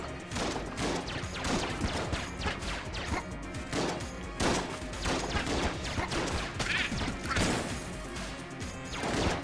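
Grenade blasts and gunfire in Enter the Gungeon, heard as a steady run of loud crashing impacts and sharp shots at a fast irregular rhythm. The sounds are up close and continuous.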